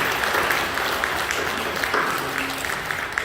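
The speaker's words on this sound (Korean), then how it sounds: "우리 함께 일하는 분들에게 뜨겁게 박수해 주시기 바랍니다" A church congregation at a Korean worship service breaks into dense, steady applause that is loud and close, lasting about three seconds with no other sound.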